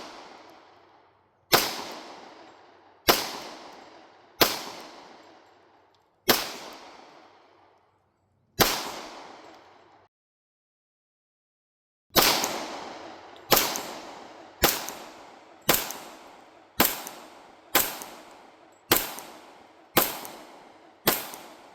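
Glock 21 Gen 5 pistol fired one-handed: about fourteen sharp, loud, close shots, one string of six at a steady pace, a brief pause, then a quicker string of eight.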